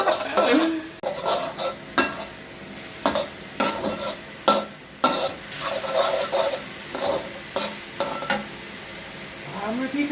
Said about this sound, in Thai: คั่วกระเทียมแล้วคั่วหมูลงไปเลยนะครับ